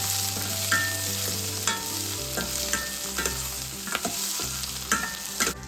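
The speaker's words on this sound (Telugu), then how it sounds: "ఇవి హాఫ్ ఫ్రై అయ్యాక జీలకర్ర, ధనియాలు వేసి కొంతసేపు ఫ్రై అవ్వనివ్వాలండి." Coriander and cumin seeds frying in a pan give a soft, continuous sizzle, broken by repeated stirring clinks and scrapes, with no talk.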